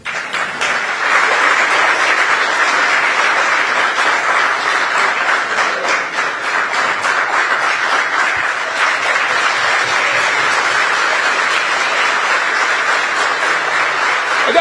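A studio audience applauds during a televised political debate: dense, sustained clapping that stays loud and steady for the whole stretch, with no speech.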